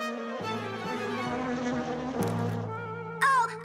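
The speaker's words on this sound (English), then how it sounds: "Oh, a bee!" A cartoon bee buzzes in a steady drone with wavering pitch, loud and close, running almost the whole time alongside music-like tonal layers, with a brighter shift near the end.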